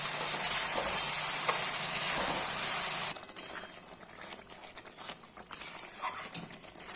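A steady, hissing sizzle of spice paste with green peas frying in a pan for duck egg curry, with soft scraping stirs; the sizzle drops abruptly partway, leaving quieter scraping and occasional hiss.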